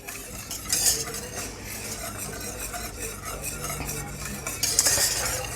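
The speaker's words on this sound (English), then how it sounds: "just keep simmering away for a little bit, stirring, just to cook the flour out" Flour gravy simmering in a pan for a roast lamb dinner is stirred steadily with a utensil, scraping and clinking against the metal under a soft sizzle, with louder scrapes near the start and end.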